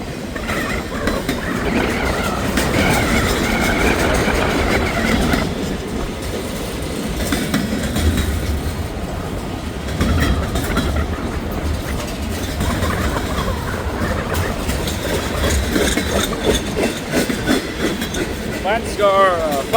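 A long freight train rolls past close by with flat-spotted wheels and a bad bearing, giving steady rumbling, clattering rail noise with rhythmic clicks and some squeal throughout, on a cold windy morning in Hamilton.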